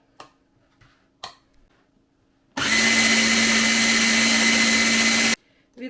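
A blender grinds a hot pepper mix with a little juice for adjika, running loud and steady for about three seconds after a few soft clicks, then stopping abruptly.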